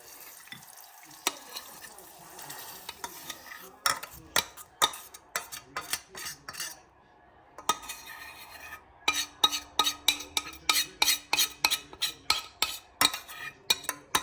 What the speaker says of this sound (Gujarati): આવી રીતે આપણે બધો મસાલો સરસ રીતે બટેકામાં નાખીશું અને મિક્સ કરીશું